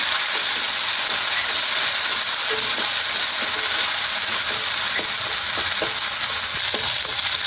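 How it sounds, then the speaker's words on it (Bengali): Ginger-garlic paste fries in hot oil for a liver singara filling, giving a steady, bright sizzle with faint scrapes and taps of stirring throughout. "তাই আমি হালকা আদা রসুনটা ভেজে নিচ্ছি তেলের মধ্যে কিছুক্ষণ।"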